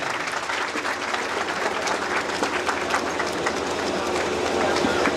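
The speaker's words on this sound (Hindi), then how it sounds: "प्लीज ताली बजाते रहें।" Continuous dense clapping from a seminar audience, loud and sustained across the whole stretch with voices mixed in.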